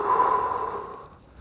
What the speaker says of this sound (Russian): И дышите.